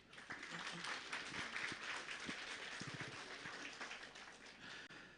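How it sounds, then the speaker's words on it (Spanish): Congregation applause during a Sunday church service, a steady broadband wash of many hands clapping that holds evenly through the whole stretch, with scattered distinct claps and faint murmuring beneath. "Una vez más vamos a dar, por favor, fuertes aplausos."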